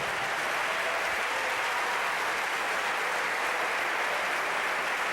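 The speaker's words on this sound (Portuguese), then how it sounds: "Um aplauso ao Senhor Jesus." A congregation applauds during a church service, a dense, continuous wash of clapping from many hands that holds steady at full strength throughout.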